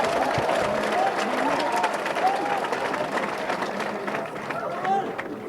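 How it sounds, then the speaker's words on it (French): A crowd applauds and cheers at a ceremony naming a square after an honoree in Senegal. The clapping is dense and sustained throughout, with voices calling out and whistling above it. "d'applaudir M. Omar Pen."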